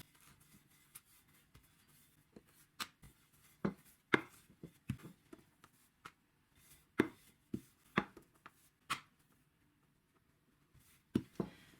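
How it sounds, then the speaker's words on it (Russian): A rolling pin presses a ball of dough into a thin flatbread on an oiled tabletop while making croissant-style pastry. Scattered soft knocks and light taps come at irregular intervals, close by, with no talking. "На стол выкладываю первый колобочек и раскатываю его в тонкую лепешку."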